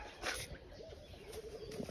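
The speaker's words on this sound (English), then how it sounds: "wow, look at these birds, man." Pigeons coo softly in the distance at the Kanilai home of former Gambian president Yahya Jammeh, amid faint outdoor ambience and occasional rustling.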